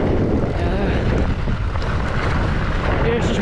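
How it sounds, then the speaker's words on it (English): Steady wind roars across the microphone on a slippery mountain bike trail with berms and small jumps, a constant loud broadband rush filling the whole stretch with no pauses. "pretty windy"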